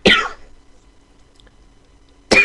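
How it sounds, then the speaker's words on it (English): A person coughs and clears their throat twice, close up, with a short quiet gap between the two harsh bursts. "Sorry about the coughing and stuff"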